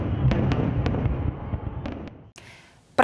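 Festive fireworks salute booming in a dense, continuous roar of overlapping bursts with sharp cracks standing out, fading toward the end into quieter distant rumble.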